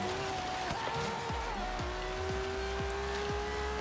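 A Ferrari in Forza Horizon 3 drives with a steady engine drone and a rising pitch, with a regular series of thumps as it passes over bumps, in a constant close-up mix.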